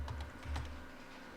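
Light typing on a computer keyboard while filling in an Excel chart dialog, a short burst of soft, close key taps with no talking.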